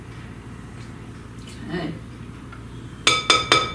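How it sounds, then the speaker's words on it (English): A big spoon clinks sharply against a bowl four times in quick succession while mixing a batch of coated cereal, after a stretch of quiet kitchen sounds and a brief spoken word. "I'm going to take a big spoon and I'm going to mix this all so all the cereal is coated"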